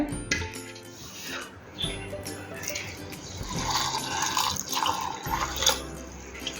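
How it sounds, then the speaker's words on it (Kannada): Milk pours into a grinder jar holding sesame seeds, a steady close liquid stream that runs for several seconds and then tapers off, with faint talk in the background. "ಈಗ ಒಂದು ಗ್ರೈಂಡ್ ಆಗಲಿಕ್ಕೆ ನಾನು 1 ಗ್ಲಾಸ್ನಷ್ಟು ಹಾಲನ್ನು ಹಾಕ್ತಾ ಇದ್ದೇನೆ."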